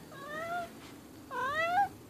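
A freshly bathed cat gives two drawn-out, wavering meows close by, separated by a brief pause.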